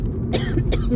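A single harsh cough bursts out close up, followed by a second rough cough, over steady background noise.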